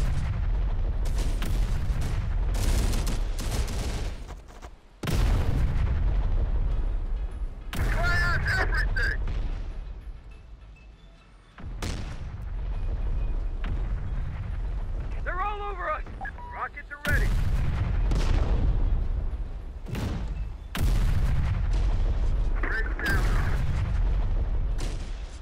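Heavy artillery barrages and gunfire thunder through a combat scene in the video game Terminator: Dark Fate Defiance, loud repeated booms separated by brief lulls, with voices and radio chatter running underneath.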